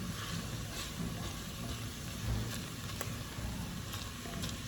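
Onions and garlic cooking down in a pan give off a steady, low sizzle with soft crackles, continuous and fairly quiet throughout, no voices.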